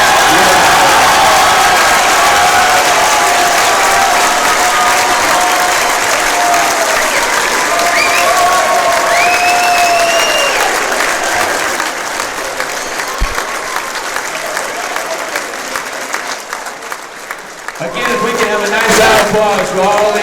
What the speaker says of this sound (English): Applause for all these fine young men and women, our W.B. Hawkins Award winners.